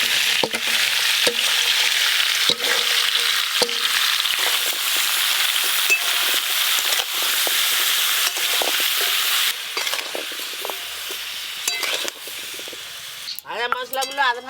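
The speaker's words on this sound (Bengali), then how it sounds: "এবার এই সব কিছু গরম তেলে দিয়ে ভালো করে মিশিয়ে নেব।" Spices for olive pickle sizzle and fry in hot oil, a loud continuous crackle broken by the clicks of stirring, with a voice speaking briefly at the end.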